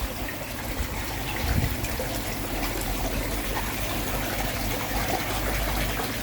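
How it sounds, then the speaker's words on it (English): Steady trickling water with a constant low hum beneath from an aquarium filter and pump, continuous and close, running without pause. "Trickling's going and the pump's running"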